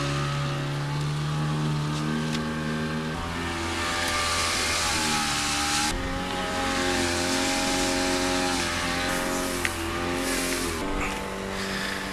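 A speedboat engine drones steadily and loudly as the boat pulls away on a Sundarbans-area river near Kuakata, the pitch wavering slightly with a continuous roar throughout.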